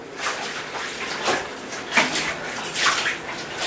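Water running into a bathtub as it fills, a steady broadband rush with a few small splashes and knocks, moderately loud and with no talking.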